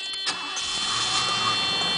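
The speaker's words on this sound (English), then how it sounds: "So let's start the car." A 1987 Mercedes W126 420SEL engine cranks briefly and catches, settling into a steady, fairly loud running hum over about two seconds with no talking.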